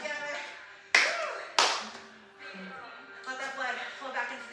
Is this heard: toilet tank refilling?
no